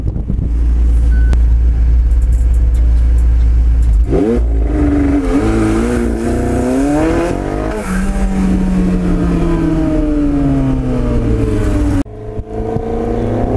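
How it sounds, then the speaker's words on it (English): A McLaren 720S revs hard during a burnout to warm its tires, loud and close, its engine note sweeping up and down through several rising and falling revs before cutting off abruptly. "we need to do a burnout because it's part of warming up the tires"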